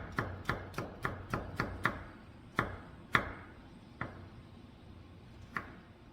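A knife julienne-cuts cucumber on a board. Seven quick, evenly spaced chops come in a fast run, then a few slower, spaced strikes follow, crisp and close in a quiet room.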